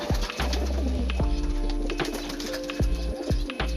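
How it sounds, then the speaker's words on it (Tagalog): A pigeon coos softly in repeated low, throaty calls, close by, with faint background noise and no talking. "Kanina yung kalapati."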